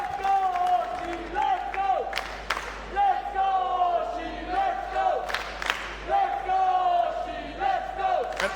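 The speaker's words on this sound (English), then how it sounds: "you hear that crowd, the fans behind Oshie" A women's wrestling crowd roars and chants in support of Oshie during a title match, loud rhythmic surging cheers with bursts of applause, and a commentator's voice mixed in.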